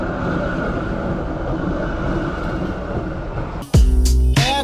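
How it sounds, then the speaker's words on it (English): A Melbourne tram on a street tram line starts with a steady rolling rumble, then passes close and loud with sharp metallic wheel squeals and clanks. "I'm dead close to this tram line."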